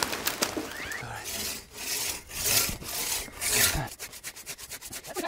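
Two-man crosscut saw cutting through wood by hand, in the old Amish way, with no gas engine: a close, steady rasping in long back-and-forth strokes, quickening into short rapid strokes near the end.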